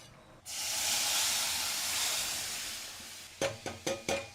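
Dal poured into a hot spice tempering with ground cumin lets out a sudden loud, steady hissing sizzle that slowly eases, followed by a few short clinks and scrapes near the end.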